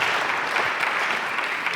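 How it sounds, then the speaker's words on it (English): Dense, continuous applause from an audience at an AmeriCorps VISTA anniversary celebration, many hands clapping at steady volume for a short stretch. "can we have another round of applause for your state director?"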